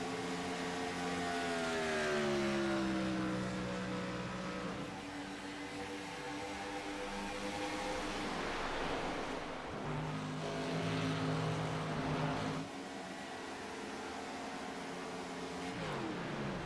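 Race car engines coasting on the clutch through corners in an IROC racing video game at Kansas, overlapping engine tones that drone and slide in pitch, fairly quiet and continuous with no talking.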